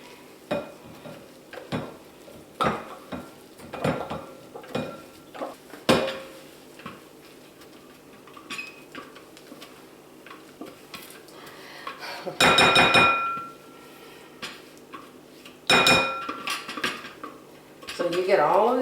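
Cranberry salad is spooned into a pretty serving bowl, giving scattered utensil clinks and scrapes against dishes with a few louder clattering bursts, all close by and with no talking.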